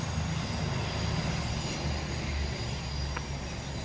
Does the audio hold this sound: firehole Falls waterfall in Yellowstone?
no